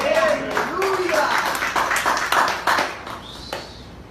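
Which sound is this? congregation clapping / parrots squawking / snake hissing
congregation clapping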